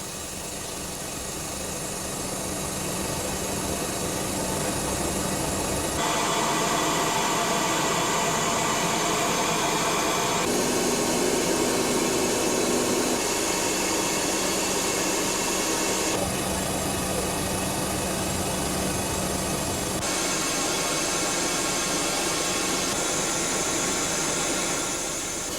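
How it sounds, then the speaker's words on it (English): Four engines of an Antonov An-124 cargo jet throttle up slowly for takeoff, a loud, steady broadband roar and whine that builds and shifts in stages, with no talk over it. "pilot Konstantin pushes the throttles for the 4 engines"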